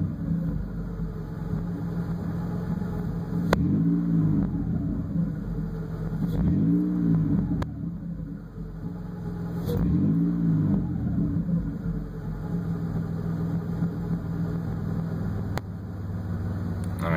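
A Toyota engine idles steadily and then rises through three brief throttle blips before settling back into an even cruising hum, loud and close throughout with no talking.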